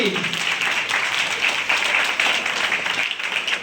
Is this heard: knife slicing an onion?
no